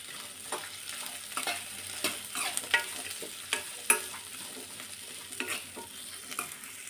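Ingredients frying in a pan with four or five garlic cloves, a soft continuous sizzle with irregular sharp taps and scrapes of a spoon stirring, fairly close and without speech.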